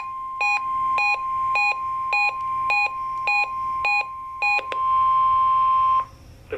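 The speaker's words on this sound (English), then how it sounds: "The preceding was a test of the National Weather Service Emergency Warning System" A National Weather Service Emergency Alert System weekly test plays a rapid series of about nine short, sharp electronic beeps, then a single longer steady tone that cuts off. The sound is loud and clean, with no voices.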